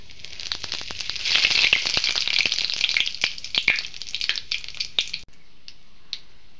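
Whole cumin seeds and a little cinnamon spluttering in hot oil for tempering, a burst of crackling sizzle with sharp pops that thins out and stops near the end, no talk.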